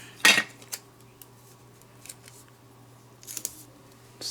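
Scissors snip through paper die-cut pieces for a handmade card, a sharp close cut at the start followed by a few softer snips and clicks over a faint low hum.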